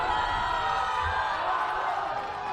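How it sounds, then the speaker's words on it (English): Spectators cheer loudly at an under-24 world championship ultimate frisbee game between Great Britain and the Netherlands, a dense steady roar of crowd noise filling the whole stretch with no clear breaks. "So a loud cheer."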